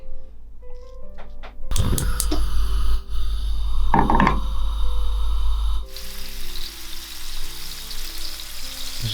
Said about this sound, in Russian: Будем жарить.